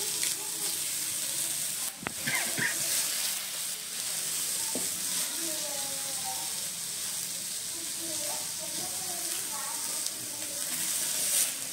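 Fish frying in a multi maker gives a steady, close sizzle and hiss that runs unbroken throughout, with a single sharp click early on.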